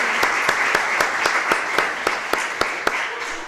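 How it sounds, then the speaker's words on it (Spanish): An audience claps at a book presentation, a steady wash of applause with sharp, evenly spaced louder claps cutting through, fairly close and loud. "muchas gracias por el aplauso"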